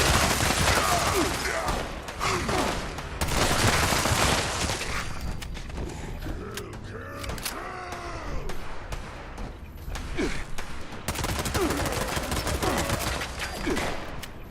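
Gunfire in the Fallout 76 video game: dense, loud bursts of repeated shots that surge, drop to a quieter stretch of scattered mechanical clatter, then return in heavy volleys near the end.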